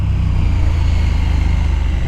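A KTM 1290 Super Duke R motorcycle engine drones steadily and loudly at speed on a small mountain road, a continuous low throbbing roar with no talk.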